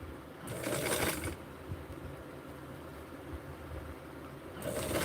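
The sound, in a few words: sewing machine stitching a Barbie dress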